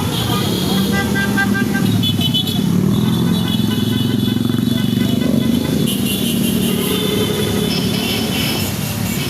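Vehicle horns honk over steady traffic rumble at an anti-corruption protest at Camp Aguinaldo, with sustained and overlapping toots as someone speaks over the din.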